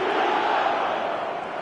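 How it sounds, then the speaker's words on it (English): A stadium crowd in the eFootball video game roars in a steady, dense wash of cheering and shouting, loud and sustained with no break. "the crowd are reacting to that now."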